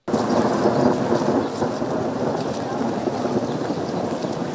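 Heavy rain falls hard and steady during a large outdoor protest gathering in Kocani, a dense continuous hiss with a low rumble, and speech faintly beneath it.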